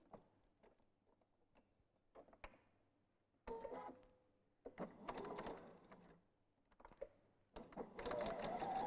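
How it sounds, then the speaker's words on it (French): Sewing machine stitching a 5 mm pleat on a blouse, several short close bursts of rapid mechanical whirring separated by pauses and faint handling clicks. "je vais venir à la machine faire mon pli ici à 5 mm"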